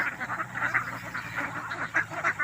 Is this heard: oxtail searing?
no